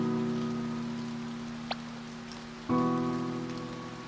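Rain falls steadily in the video game To The Moon, a soft continuous patter beneath sustained tonal music, with no talk.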